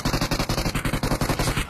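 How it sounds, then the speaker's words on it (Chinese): Rapid automatic gunfire in a battle royale shooter, a loud, close, steady stream of shots at roughly ten per second, with no talking over it. "开枪了"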